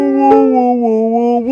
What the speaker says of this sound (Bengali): প্রথমে আমরা দেখব এই কুকুরের অসাধারণ একটি গান